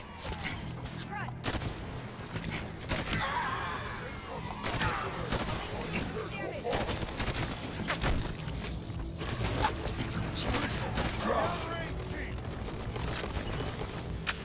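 Rapid gunfire aimed at a Banshee aircraft in Halo 5: Guardians, a dense crackling stream of shots with footsteps and combat noise, moderately loud and continuous throughout.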